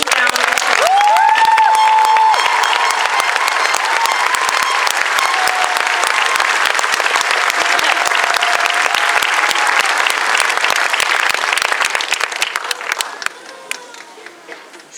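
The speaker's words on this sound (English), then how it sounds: "A huge round of applause." Sustained, loud applause from a graduation ceremony audience, dense clapping with a few whistles that fills about twelve seconds before tapering off at the end.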